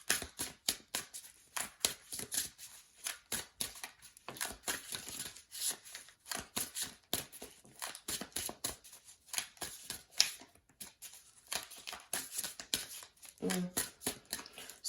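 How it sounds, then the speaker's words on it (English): Tarot cards being shuffled in steady rapid riffles and soft papery flicks, close and fairly quiet, continuing without pause for the whole stretch with no voice over it. "So as I'm shuffling"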